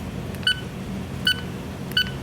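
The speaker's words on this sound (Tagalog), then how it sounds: "Deadman alarm." A bridge navigational watch alarm system (BNWAS) on a ship's bridge gives its deadman alarm as three short electronic beeps, each spaced well apart, over a low steady hum with no talking.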